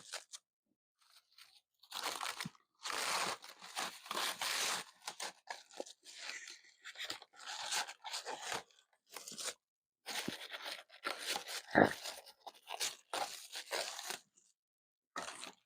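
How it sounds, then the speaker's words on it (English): Plastic cling film being pulled and crumpled, a busy run of crisp crackling and rustling bursts with short pauses, fairly close but quiet. "Pardon the crinkling."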